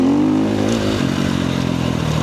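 An off-road KTM motorcycle being ridden, its engine giving a steady, loud droning roar with rough clattering texture throughout, pitch easing slightly midway as the bike carries on.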